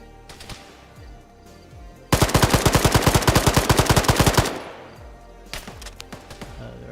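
Automatic gunfire in the ARMA 3 video game: a long rapid burst of evenly spaced loud shots rattles for about two seconds, with scattered single shots and distant pops before and after.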